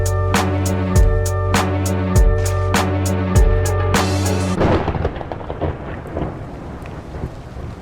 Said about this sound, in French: C'est nice comme manière de couper le beat avec un éclair puis la pluie